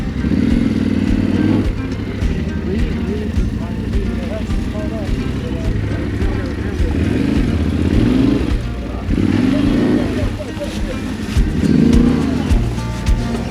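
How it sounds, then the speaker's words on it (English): A loud motorcycle engine runs close by at a motorcycle rally, rumbling and clattering, with a few surges as it revs. "I'm gonna try to run the engine now."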